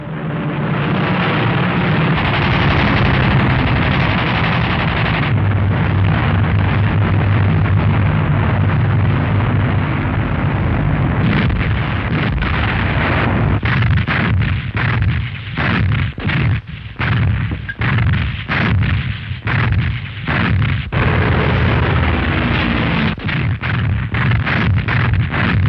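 German bombs exploding during an air raid, a dense, loud rumble of blasts with heavy low-end roar that runs continuously, then breaks into irregular bursts of crashes and detonations, with no voices.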